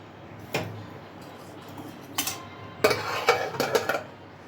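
One cup of red lentils being washed in a pot, heard as clinks and scrapes of utensil on metal, sparse at first and then a cluster of rattling knocks; no speech.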